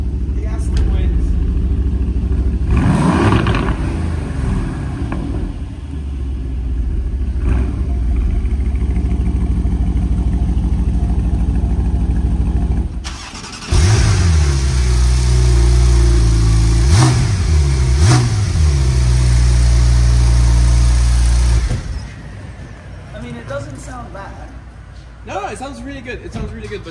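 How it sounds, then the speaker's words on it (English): An Aston Martin V8 car engine starts up and settles into a loud, deep idle, with occasional revs, while people talk over and around it. "I'm just gonna start my car so that they can"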